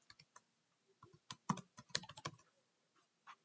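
Keys on a computer keyboard are typed in quick, irregular bursts of sharp clicks while code is entered, close and clear with no talking.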